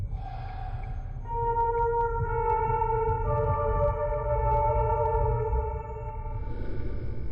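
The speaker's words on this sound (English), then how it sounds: "Follow the notes and play the piano." A simple electronic piano melody played in the game Fatal Frame: Mask of the Lunar Eclipse, a few sustained tones stepping up and down, over a steady low background hum.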